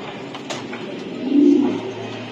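Racing pigeons cooing at a breeder's farm, a soft, low throaty coo rising in the middle of a short stretch, close by with no talk.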